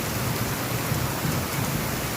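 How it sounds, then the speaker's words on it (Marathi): Heavy rain driven by wind roars steadily and loudly outdoors by a hotel gate in Kolhapur during a sudden downpour, a dense continuous wash with no voices. "पावसाचं प्रमाण बरंचसं वाढलं आहे वारं पण आहे"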